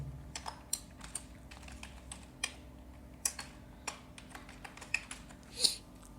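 Typing a name on a computer keyboard while setting up a Microsoft Outlook profile, a steady run of light, irregular key clicks, fairly quiet and close, with no talk.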